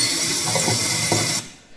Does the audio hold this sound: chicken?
no